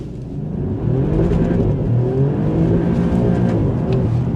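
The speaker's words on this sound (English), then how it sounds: "We'll give it one more acceleration just for fun" An Alfa Romeo Giulia Quadrifoglio accelerates hard with its engine revving loud and close as it pulls away on tyres that are still slipping. The roar holds steady for several seconds.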